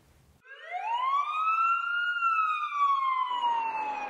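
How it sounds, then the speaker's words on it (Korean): A single emergency siren rises and wails in a long, loud, clear tone that holds steady and then starts to fall, heard alone with no talking. "사이렌이 울리고 사이렌."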